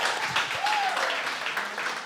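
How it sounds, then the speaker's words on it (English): Audience clapping fills the room in a steady, dense patter of applause for about two seconds, with a faint voice briefly rising through it. "Why are you clapping?"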